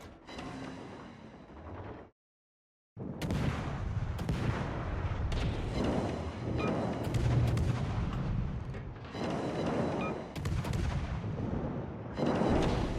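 Ship guns firing armor-piercing shells in the naval battle game World of Warships, a dense run of loud booming salvos with a brief silent gap early on, then nearly continuous overlapping blasts.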